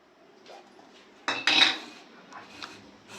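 A metal lid set onto a pot of crab curry gravy, a short double clatter of metal on metal, close and fairly soft against a quiet kitchen.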